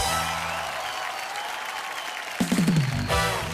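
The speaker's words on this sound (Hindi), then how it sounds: "एक बार जोरदार तालियां हो जाए।" Studio audience applause on a Hindi TV movie game show, a sustained clapping wash under music that keeps playing, with a short burst of musical stabs near the end.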